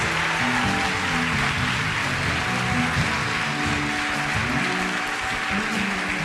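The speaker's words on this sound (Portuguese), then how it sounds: "aplauda forte o Senhor" A church congregation claps loudly and continuously, a dense wash of applause that fills the room at an even, sustained level. Murmured voices sit underneath.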